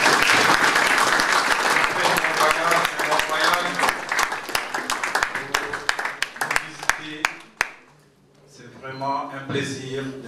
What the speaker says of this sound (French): Et nous acclamons pour eux, nous applaudissons